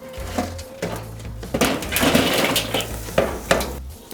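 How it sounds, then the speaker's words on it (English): Charcoal tipped into a grill for steak sandwiches, a run of clattering, rattling impacts and scraping thuds over about four seconds, close and fairly loud, with several sharper knocks standing out. "The charcoal is ready, so we'll drop it into our grill."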